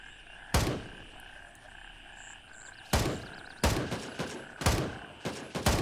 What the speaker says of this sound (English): so they're shooting back different weapons.